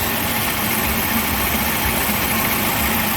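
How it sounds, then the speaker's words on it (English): An idling Buick LeSabre 3800 engine with a knocking crankshaft pulley and the accessory belts removed gives a steady, loud, close mechanical drone with faint periodic knocking. "So I would believe it's that crankshaft pulley"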